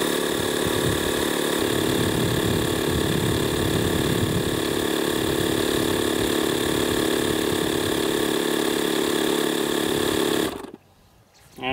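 A 12 V portable air compressor runs steadily while inflating a car tire, a loud, constant buzzing motor drone that holds for about ten seconds and then cuts off abruptly.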